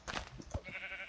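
Sheep bleating in the video game Minecraft, a short bleat that sits among clicks and other game sounds, with no talking over it.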